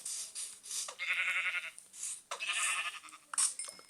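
Sheep in the Minecraft video game bleating twice, long wavering calls close up, with a few short game clicks near the end.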